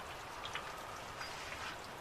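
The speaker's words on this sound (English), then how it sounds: "No wind, just a little bit of rain." Light drizzle falls at a coastal camp at Cape Arid on a still, overcast morning, a faint, steady patter with scattered soft drop ticks over a quiet background, without any talking.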